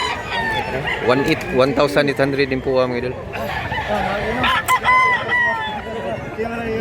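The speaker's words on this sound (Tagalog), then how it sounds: "Wow, mga manok." Roosters crow and chickens cluck at a fowl market in Mantalungon, Cebu, while buyers and sellers chatter and haggle nearby throughout.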